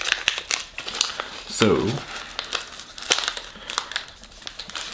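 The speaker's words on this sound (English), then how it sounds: "So we'll go ahead and unwrap this box." Gift-wrapped Chanel box being unwrapped, paper crinkling and tearing in bursts close by, with a brief louder rip near the middle and a voice speaking at the start.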